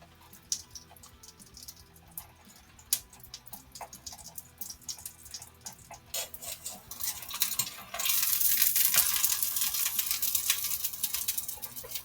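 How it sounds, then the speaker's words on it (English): Egglife egg wrap sizzling in a pan over medium heat, a soft crackle at first that swells into a loud, steady hiss for the last few seconds, with light clinks of a utensil against the pan. "I'm going to throw the egg life on. You can hear the sizzle."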